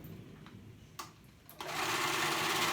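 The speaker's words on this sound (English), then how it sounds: "So I'm gonna go ahead and sew this right here on the side, the edge," A sewing machine stitches the side seam of a jacket, starting after a few clicks of handling and then running steadily and close up with a fast, even whirring rhythm.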